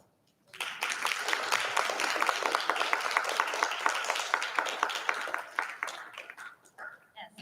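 Sustained applause from a crowd after a series of presentations, dense and steady for several seconds before thinning out to a few scattered claps.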